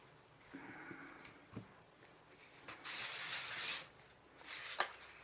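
800 grit sandpaper rubs over cast Jesmonite AC100 in a few close, quiet scratchy strokes, with short sanding bursts separated by brief pauses.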